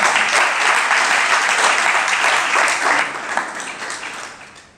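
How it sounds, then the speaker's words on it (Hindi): Loud, dense audience applause at a Hindi spiritual discourse, steady clapping for about three seconds before tapering off and fading out, with no speech over it. "अब समझ में आया तो ताली बजाओ।"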